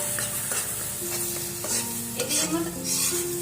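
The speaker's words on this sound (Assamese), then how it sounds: "মছলাখিনি ধুনীয়াকৈ ফ্ৰাই হৈ গৈছে" Masala spices fry in oil for dum aloo with a close, crackling sizzle, while a utensil stirs and scrapes the pan in short strokes and bright metallic tones ring out now and then.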